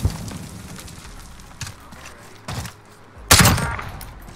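Gunfire in the video game Gunfight: a few scattered shots and thumps, ending in a loud burst of heavy firing, near and dense, with no talk over it.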